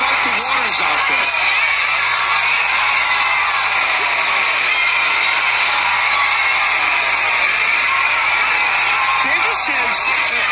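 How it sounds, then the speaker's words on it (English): Boxing arena crowd at the Davis vs. Barrios fight, a loud, steady roar of cheering and whoops running throughout, with commentary voices over it. "the crowd, of course, reacting to everything that Davis throws"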